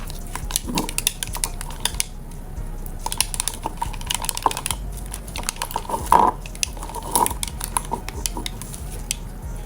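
Homemade sushi sauce being mixed in a bowl, with rapid clinking and tapping of a utensil against the bowl in irregular bursts, fairly close.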